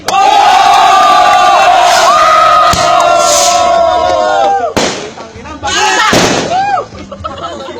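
A loud crowd at a FlipTop rap battle main event final roars, shouts and cheers continuously, with whistles and sharp bangs cutting through near the end as the noise briefly dips and surges back.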